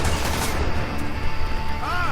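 Dense video-game gunfire from Army of Two: The 40th Day, shooting at bombs during a mall mission, a continuous rattle of shots with no clear pauses.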